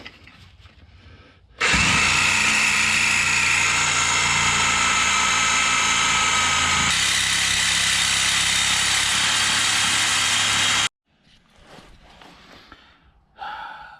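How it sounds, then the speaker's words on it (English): Sawzall reciprocating saw cutting through a seized control arm bolt: a loud, continuous buzzing rasp lasting about nine seconds, then stopping abruptly, followed by quieter clanks and handling noise. "So I pried a gap big enough that I'm going to be able to get the Sawzall in."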